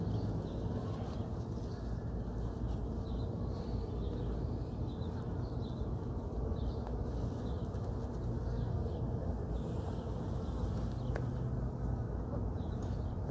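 Honeybees from a hive being cut out during a removal make a dense, continuous low hum close by that holds steady throughout.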